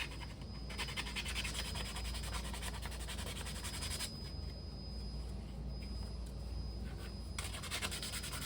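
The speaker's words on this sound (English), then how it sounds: "take sandpaper and hit that inner edge" Sandpaper rubs against the inner edge of a model kit piece in steady back-and-forth strokes, a soft close scratchy hiss with brief pauses and no talking.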